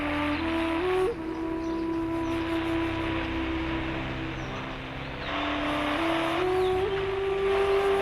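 An orange Tron bike from an Indian bike 3D driving video game, its engine a steady synthetic whine that shifts pitch a couple of times while cruising continuously.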